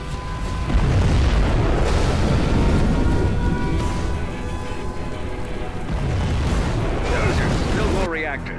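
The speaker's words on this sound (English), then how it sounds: "We have launched our nuclear missile." A nuclear missile detonates in Command & Conquer Generals Zero Hour, a loud, sustained rumbling boom with rolling, crackling blasts that swell again before fading.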